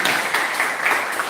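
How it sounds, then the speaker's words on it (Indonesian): A gathering audience gives a short burst of applause for Bapak Christine. The clapping is dense and fairly close, and it stays fairly even for about a second. "Mari kita beri tepuk tangan atau aplaus bagi Bapak Christine"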